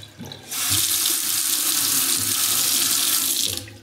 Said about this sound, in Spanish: Luego aquí tenemos el grifo.